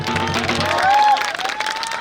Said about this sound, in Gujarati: જોરદાર તાળી થઈ આ લોકો માટે, દિલથી તાળી થઈ જાય યાર